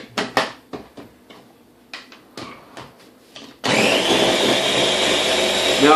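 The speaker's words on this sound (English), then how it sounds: "1 peeled banana going in to the blender." A kitchen blender starts up after a few clunks and knocks, then whirs loudly and steadily as it purees a peeled banana with spinach for a smoothie, running continuously to the end without speech.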